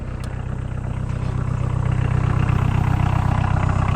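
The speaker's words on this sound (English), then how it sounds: "The classic diesel sound, I still love it." A 1.6L VW diesel engine in a caravan, unused for seven years, idles nearby with a steady low rhythmic clatter and rumble, holding constant throughout.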